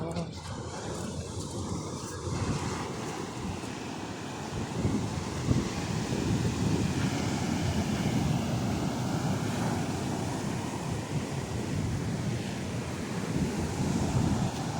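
Sea water rushing in through a channel in the Maldives, a continuous broad wash of flowing surf mixed with wind buffeting the microphone, steady and close throughout.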